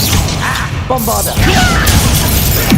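A Bombarda blasting spell goes off in Hogwarts Legacy, a loud smashing crash with shattering debris, and game sounds keep rumbling after the impact.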